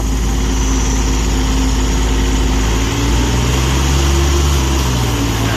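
An old Japanese three-cylinder diesel welder generator runs steadily during arc welding with a loud, constant low rumble, its pitch rising partway through as the machine works under load.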